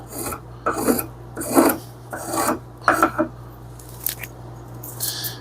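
A tuned spokeshave takes fine shavings from wood in a series of close, crisp rasping strokes, about five distinct pulls in a steady rhythm over a low background hum.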